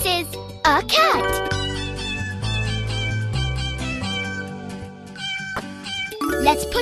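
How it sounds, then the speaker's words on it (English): A cat meows in a kids' animal puzzle video game, a few rising cartoonish meows at the start mixed with tinkling chimes and upbeat game music, with a child-like voice briefly present. "Wow, this is a cat!"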